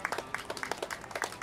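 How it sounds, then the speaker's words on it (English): Audience applause after a group sing-along, heard as a sparse, fairly quiet patter of individual claps with distinct separate hits rather than a dense roar. "Give yourselves a big round of applause."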